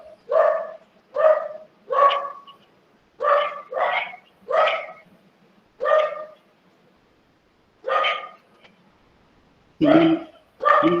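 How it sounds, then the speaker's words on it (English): A dog barks repeatedly, about a dozen loud, evenly spaced woofs, some in quick pairs, sounding close by during an online lecture on 5G networking. "The dog is agreeing to that."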